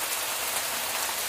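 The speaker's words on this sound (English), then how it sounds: "The weather is rainy." Steady rain falling on a surface, a dense, even hiss of drops without pause, fairly close and moderately loud, with no voices.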